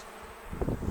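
Honeybees around a swarmed three-month-old hive started from a package: a brief, close buzzing that swells louder toward the end of a single second.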